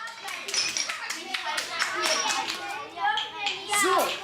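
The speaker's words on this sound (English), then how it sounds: "Okay, round of applause." A group of children clapping together in a round of applause in a classroom, the claps dense and steady, with children's voices chattering and calling out over it.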